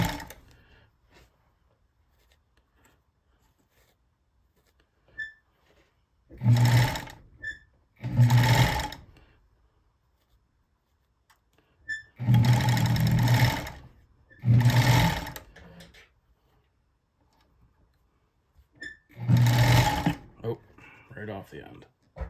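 A Bonis fur sewing machine stitches beaver fur gauntlets in five short loud bursts of rapid mechanical whirring, separated by quiet pauses with no talking.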